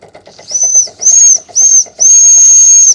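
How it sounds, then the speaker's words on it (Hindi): An old steam locomotive whistle shrieks in four blasts, three short and one long, loud and close, over the rhythmic chuffing of a small steam engine with no voices. "ट्रेन की जो पुरानी सीटी है,"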